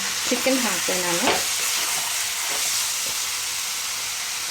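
Chicken pieces sizzle and fry in hot coconut oil with tomato, while a spoon stirs through them; the frying hiss stays steady and loud throughout, with brief scraping strokes near the start.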